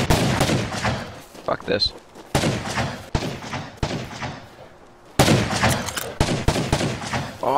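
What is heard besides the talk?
gunfire in video game Rust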